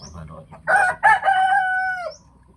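A fighting cock crows once up close, a loud drawn-out call that holds and then trails off, with faint background noise around it.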